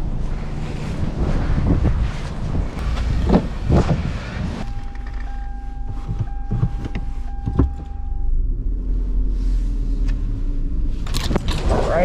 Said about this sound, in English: My gosh, it's so windy out here.